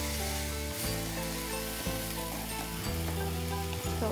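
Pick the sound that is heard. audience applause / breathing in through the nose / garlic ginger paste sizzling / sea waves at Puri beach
garlic ginger paste sizzling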